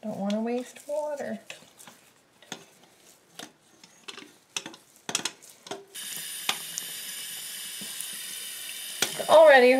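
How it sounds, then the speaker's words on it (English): Tap water runs steadily into a kitchen sink while a doll's hair is washed with dish soap, a continuous rushing hiss in the second half of the clip, with someone talking and brief handling clatter before it. "Now I'm just gonna wash her hair. I'm using dish soap."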